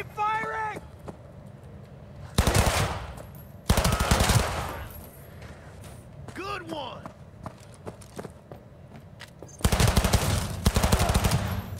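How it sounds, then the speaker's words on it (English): Automatic gunfire in the video game Cyberpunk 2077 comes as several loud, rapid bursts separated by gaps, while voices call out between the volleys. "Keep firing!"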